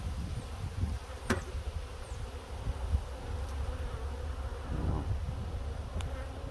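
Honey bees swarm at an open hive, cleaning up oozing honey during winter preparation, their steady buzzing drone filling the scene up close with occasional individual bees passing nearer.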